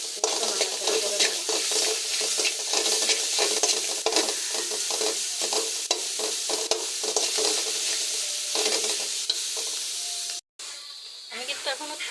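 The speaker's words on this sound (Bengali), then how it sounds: "কড়াইতে পেঁয়াজ আর এটা কাঁচামরিচ আর রসুনটা ভেজে নিচ্ছি" Onion, garlic and green chili dry-roasting in a hot wok with no oil, giving a continuous crackling sizzle with repeated scraping stir strokes, briefly cut off near the end.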